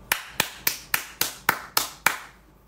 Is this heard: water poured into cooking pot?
no